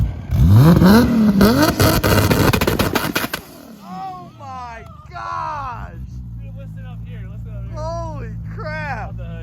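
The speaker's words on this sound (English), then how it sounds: "I revved it and I was like, wait, was that a two-step?" A turbocharged Toyota Supra engine revs hard with rapid machine-gun-like popping from a two-step limiter, then cuts off as excited voices shout and talk.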